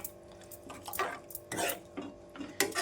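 A spoon stirs Andhra-style taro root tamarind curry in a pot, giving several distinct scraping clinks against the metal in uneven bursts, close and fairly quiet, with no talking.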